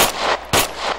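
Gunfire in the military shooter game Arma 3, two loud close bursts about half a second apart, each with a sharp attack and a fading noisy tail.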